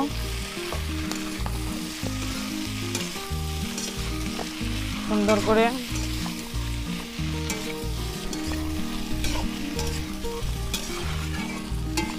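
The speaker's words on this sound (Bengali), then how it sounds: "প্রথমে ইঁচড়গুলো দিয়ে দিয়েছি, এবার আলুগুলো দিয়ে দেব। দিয়ে নেড়ে চেড়ে নেব।" Young jackfruit and potatoes fry in a pan, a loud continuous sizzle with rhythmic scraping strokes of a spatula as they are stirred, no talking.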